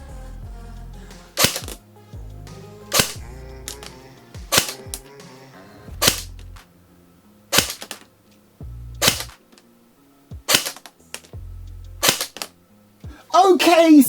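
An ICS CXP 08 airsoft gun fires single shots, about nine sharp, loud, close cracks spaced a second or so apart, each with a short mechanical rattle, ending with a brief burst of noise.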